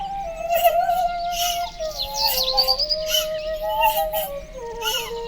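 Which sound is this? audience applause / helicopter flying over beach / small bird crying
small bird crying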